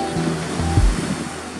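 Ocean waves break on the shore at a surf point, with a steady wash of surf and a single deeper thump of a breaking wave mid-clip, under light offshore wind.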